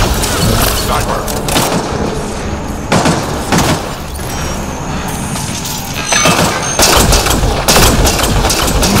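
Sniper gunfire in the video game Mass Effect: Andromeda: loud, sharp shots and booms burst out at irregular intervals over a busy background of game combat.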